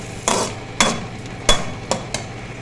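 Onions frying in a pan toward a light golden colour while being stirred, heard as five distinct scraping, sizzling strokes of a spoon against the pan over a steady background hiss, close and fairly loud.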